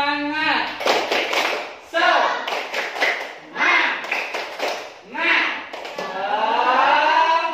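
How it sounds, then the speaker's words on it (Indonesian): A primary-school class claps a rhythmic spirit clap pattern in groups of sharp bursts, interleaved with children chanting in unison. "Kita pakai tepuk semangat."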